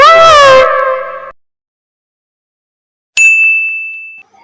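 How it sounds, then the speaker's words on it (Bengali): A PhonePe payment-received alert on a phone, a bright single ding ringing out and decaying after a brief whining vocal sound and a pause of silence. "ফোন পেতে ঢুকেছে।"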